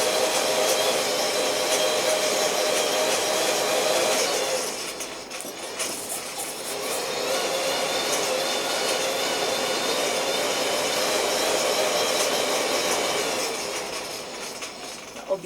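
A blacksmith's forge roars steadily while heating steel for an S-style hook, a loud continuous blowing rush that dips briefly around the middle and near the end before resuming.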